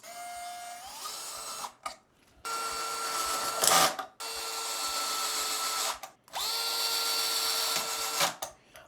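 A cordless drill drives screws to fit a Telecaster guitar bridge. It gives three rising whirring bursts broken by short silent gaps, with a metallic rattle in the middle. It is close and clear.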